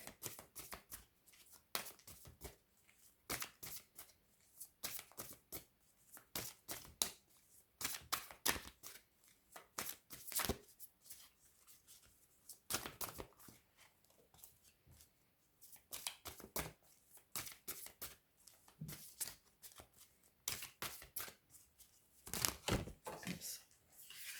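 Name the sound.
Psychic Tarot deck cards being pulled and shuffled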